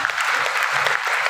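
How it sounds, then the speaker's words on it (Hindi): A seated audience at a motivational business talk in Sultanpur, Uttar Pradesh, breaks into brief, dense clapping, a short steady burst of applause filling the room. "तालियां बजा ली"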